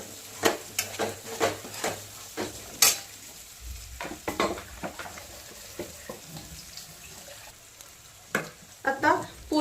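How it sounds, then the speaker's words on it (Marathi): Spoon stirring peas and cashews into pulao in a pan, with repeated scraping clinks and soft sizzling in an uneven rhythm, close and fairly loud, no talking. "ह्याच्यात आता सध्याला मटर आणि काजू दोन्ही मिक्स करून घालायचं."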